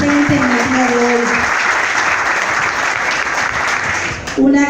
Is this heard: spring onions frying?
no